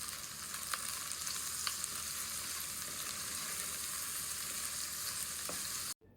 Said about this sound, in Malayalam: ഇനി ഇത് നന്നായിട്ടൊന്ന് വഴറ്റിയെടുക്കണം.